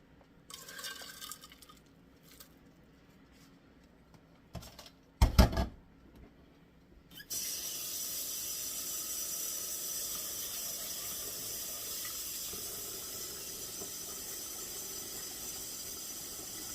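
A kitchen tap runs steadily from about seven seconds onward as okra pods are rinsed, a continuous hiss of water after a few earlier clatters and one brief louder splash, with no talking.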